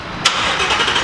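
A Ford Shelby GT350 fires up with a sharp burst at ignition, then settles into a loud, steady idle that carries on alone.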